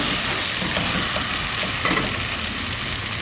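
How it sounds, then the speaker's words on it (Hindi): Minced keema fries in oil with ginger-garlic paste, making a continuous, moderately loud close sizzle with a dense, even texture and no pauses or voices. "अब कीमे को इसमें भूनेंगे"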